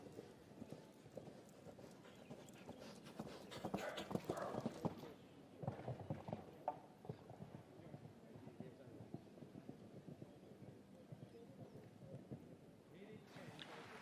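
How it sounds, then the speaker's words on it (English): A show jumper's hooves thud in a steady canter rhythm on a grand prix course over a 1.55m table A track, heard faintly at a distance under the arena's background noise. "It's a great little horse."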